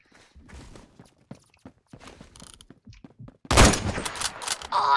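Gunfire in the Roblox shooter Phantom Forces, a loud burst of rapid shots erupting near the end after a stretch of quieter footsteps and game clatter.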